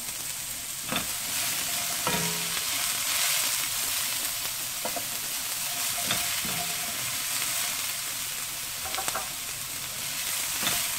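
Cabbage and mixed vegetables stir-frying over high heat for Singaporean rice, a steady loud sizzle with scattered scraping stirs and clinks of a spatula throughout.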